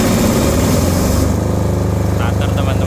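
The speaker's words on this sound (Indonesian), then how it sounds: "nanti genset akan menyala. Nah, ini hitungan mundur dari 10 detik, nanti akan starter ya" A Krisbow 5 kVA generator, set to start automatically for a tilapia biofloc pond, runs with a loud, steady engine drone, and someone speaks over it throughout.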